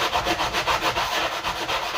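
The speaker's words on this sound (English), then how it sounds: "I got a sanding block for drywall sanding" A drywall sanding block rubbing cardboard off a homemade bead tray in quick, rhythmic back-and-forth strokes, close and fairly loud, with no talking.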